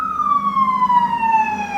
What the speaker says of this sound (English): And you hear the siren coming out here.